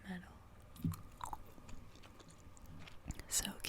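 Soft, close gum chewing with small moist smacks and clicks, quiet and intermittent against a low background.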